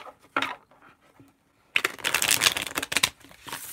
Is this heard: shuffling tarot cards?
yes